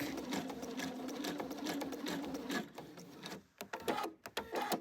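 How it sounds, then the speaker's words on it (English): A sewing machine runs a straight stitch over thick-cored yarn on a quilted Easter bunny wall hanging, a fast, steady mechanical chatter close up. It stops about halfway, leaving a few short bursts and clicks. "Maybe we'll switch it to a straight stitch and see what happens."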